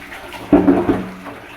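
Water splashes in a short burst while a dog is bathed, a brief wet slosh over low background noise with no talking.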